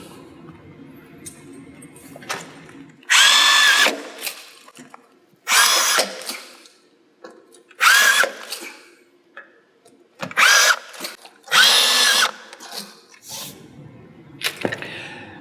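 A power drill drives screws through GIB Curveline plasterboard into wall studs at 200 mm centres, forming a convex curve; six loud, short whirring bursts come close up with quiet pauses and light handling noise between them.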